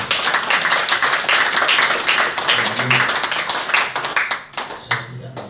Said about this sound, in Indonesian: Tepuk tangan ya anak-anak.